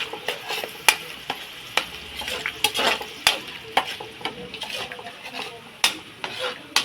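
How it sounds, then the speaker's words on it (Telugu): Ginger garlic paste frying for country chicken curry, a steady sizzle under sharp repeated clicks and scrapes of a spoon stirring against the pan. "కొద్దిగా అల్లం వెల్లుల్లి పేస్ట్, ఇప్పుడైతే కలుపుకోవాలి. పచ్చి వాసన పోయేంత వరకు కలుపుకోవాలి."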